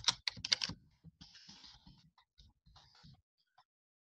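Keys clatter on a computer keyboard as a password is typed into a remote desktop login on a CentOS 7 machine, a quick burst of close, crisp taps followed by sparser, softer keystrokes trailing off.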